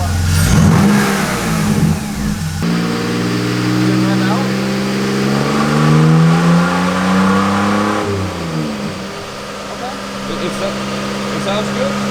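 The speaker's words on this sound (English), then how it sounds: "Rev it up." Car engine on a stock ECU after a free tune, revved hard with rising and falling harmonics, loud and close, with voices talking over part of it.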